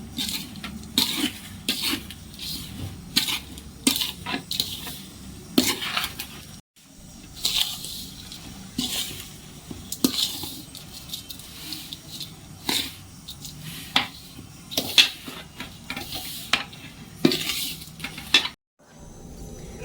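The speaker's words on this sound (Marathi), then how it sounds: "हे सर्व आता यात घालून घेऊ आणि छान मिक्स करून घेऊ" Grated jaggery and dry fruits stirred together in a pan for ladoos, heard as repeated scraping and clanking spoon strokes in an irregular rhythm with soft sizzling between them.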